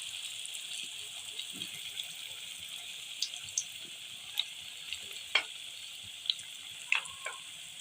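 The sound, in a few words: moong dal pakoras frying in oil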